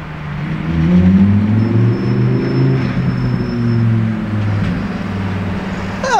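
A Lamborghini Performante sports car engine rumbling loud and close, with a few rising revs and a steady whir, no one speaking.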